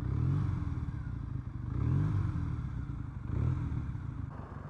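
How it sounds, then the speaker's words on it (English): A Triumph Bonneville café racer motorcycle engine idles steadily with a low, smooth rumble that swells slightly in waves, plus some light mechanical clatter. "the engine's just got this soft vibration it's not jarring, it's like a purr of a cat"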